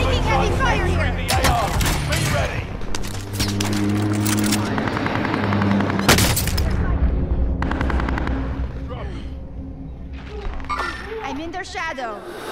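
Gunfire in Call of Duty: Modern Warfare, in a quads match: loud, dense bursts of shots and blasts over a steady, rumbling helicopter-like drone, with voices talking throughout.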